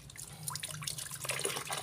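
Water flows from a tap for rinsing after scrubbing away dirt, a steady quiet splashing trickle with scattered drips and small bursts, close by and without talk.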